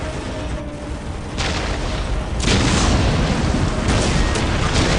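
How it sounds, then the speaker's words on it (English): Orc artillery fire in Warhammer 40000 Dawn of War booms out as a sustained, heavy rumbling barrage that grows louder partway through, with no voices over it. "We will silence that orc artillery"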